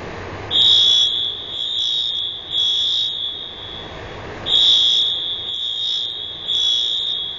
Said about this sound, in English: Blowing a fire alarm.